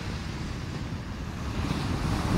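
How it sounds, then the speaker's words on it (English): Big ocean waves crash and roll onto the shore in a steady, continuous roar with wind buffeting the microphone, loud and close throughout without any talking. "The waves are really big."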